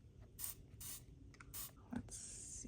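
Several short hissing bursts from a spray bottle misting water onto handmade A. Gallo watercolor paints in a palette, quiet and close, with soft rustling in the pauses.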